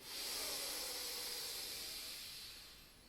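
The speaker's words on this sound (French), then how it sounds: "Et on reprend une grande inspiration complète." A deep, full inhalation during a pranayama breathing session: a steady, airy hiss lasting about three seconds that slowly fades at the end, close and alone with no talk.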